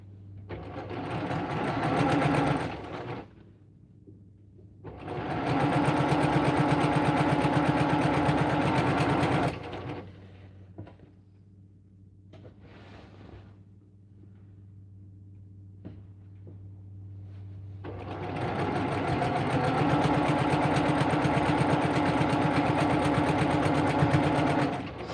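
A sewing machine stitches a quilt panel made from a jelly roll in loud, steady runs, stopping twice for several seconds before starting up again.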